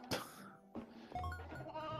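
A sheep bleats in the Toy Story 2 video game, one sharp cry followed by a second, longer wavering bleat, close and clear over a quiet game background.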